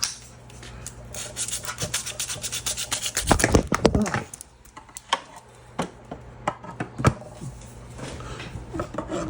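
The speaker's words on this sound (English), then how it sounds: "I need to sand about a finger's width towards the edge of each one." Close, rhythmic rubbing and scraping strokes of hand sanding on wood for a 2 meter Yagi antenna, with a few sharper knocks partway through.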